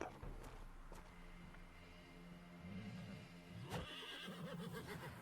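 A horse whinnies in the video game Wartales over a low rumbling background, with a couple of sharp thumps and faint hoof-like steps; slightly muffled, game-like sound.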